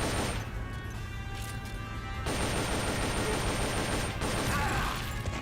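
Gunfire from the handheld stealth-action game Metal Gear Solid: Portable Ops, a dense, continuous stretch of game shots and impacts that grows louder after the first couple of seconds, with a faint voice underneath.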